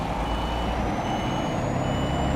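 Truck in Euro Truck Simulator 2 with steady, evenly spaced reversing beeps over a low engine rumble, loud and close, no voice.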